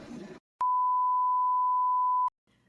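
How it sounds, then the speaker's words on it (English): A dying phone lets out one steady, sustained electronic beep lasting well over a second, clean and loud, with brief talk just before it and faint sound after. "Something's wrong with my phone and it died again."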